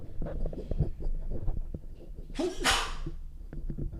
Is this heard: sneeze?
yes